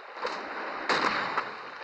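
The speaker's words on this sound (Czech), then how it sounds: "Shotgun." Shotgun fire in the mobile shooter Critical Strike Portable: one loud, sharp blast around the middle, with a smaller shot just before it and another just after, all over a steady game hum with no talk.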